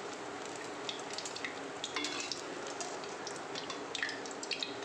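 Bhetki fish deep-fries in oil, a faint, fairly distant sizzle with scattered small pops and crackles over a soft steady hiss, and no one speaking.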